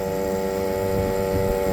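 A 2.3 HP outboard motor on a small boat runs at full throttle, giving a steady, loud, close buzzing drone with a constant pitch and no breaks.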